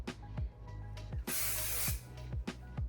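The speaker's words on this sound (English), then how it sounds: "Spray it with some hairspray." Aerogel medium hold hairspray is sprayed onto curled hair in one sustained hissing burst of about half a second, close and fairly loud, between soft handling noises.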